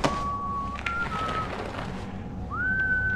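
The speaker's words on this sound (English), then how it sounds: "Whistling." A clear human whistle in sustained tones, a held note, then a rising slide into another long note, over steady background noise.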